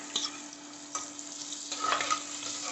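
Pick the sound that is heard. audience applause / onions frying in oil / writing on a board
onions frying in oil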